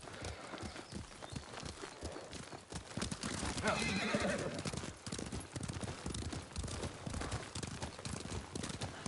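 Hooves clip-clop steadily under a horse ridden in the video game Ghost of Tsushima, with a whinny partway through and speech running over much of it.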